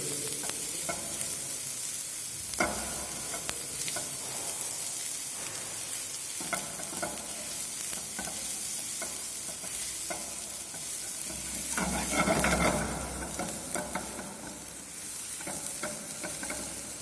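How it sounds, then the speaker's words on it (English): Onions sauté in a pan, crackling in a continuous sizzle broken by repeated scraping strokes of a spoon, with a brief louder surge of frying near the end. "So we have sauteed our onions are being sauteed."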